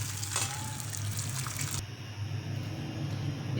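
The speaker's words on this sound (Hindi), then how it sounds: "अब इसमें गर्म पानी डाल दूँगी मैं।" Hot water poured into a bowl of raw chicken, a steady rushing flow like a running tap, close and continuous, with a slight change in tone partway through and no speech.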